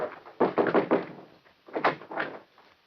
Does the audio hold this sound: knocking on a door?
yes